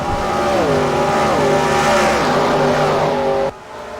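Race cars scream past on a track, several engines layered and shifting up through the gears in sweeping rising tones, loud and close, cutting off abruptly near the end.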